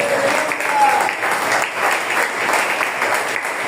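A church congregation applauding during a sermon on divine healing, a steady dense clapping across the whole moment with the room's reverberation.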